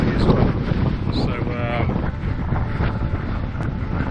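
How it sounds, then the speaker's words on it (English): Strong wind on open Dartmoor moorland in chilly spring weather, roaring steadily into the microphone as loud, constant buffeting rumble with gusty swells throughout. "It's very windy. As you can hear."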